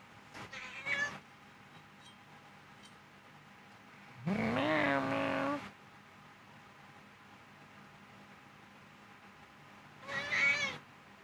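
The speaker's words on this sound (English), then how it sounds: "Cat, cat, cat. Meow, meow, meow." A cat meows three times with long gaps between, the middle call longer and drawn out, over a quiet steady hum, no speech.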